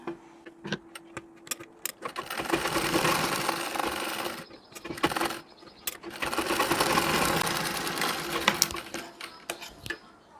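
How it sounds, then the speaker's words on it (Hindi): A sewing machine stitches a large tacking seam on a nauvari saree, running in two sustained whirring bursts with clicks and handling taps before, between and after, heard close up. "यहाँ पे एक बड़ा टाका लेकर सिलाई लगा लेनी है"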